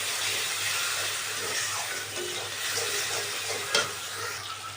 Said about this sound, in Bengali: এখন আমি ওই মশলা গুঁড়োটা করে যে রেখেছিলাম ওইটা দিয়ে দেব। দিয়ে এটাকে ভালো করে কষাবো।